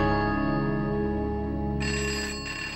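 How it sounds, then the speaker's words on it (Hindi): A telephone ringtone rings steadily and loudly, its electronic tones sustained with a brighter chime layer joining partway through, with no talking over it. "फोन उठा क्यों नहीं रही?"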